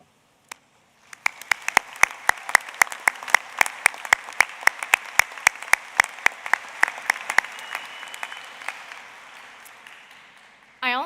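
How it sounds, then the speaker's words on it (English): Applause from the audience at an NJIT doctoral commencement ceremony: sparse claps build into steady, sustained clapping that gradually thins out, and a voice comes in at the very end. "Please join me in applauding and recognizing them as they rise."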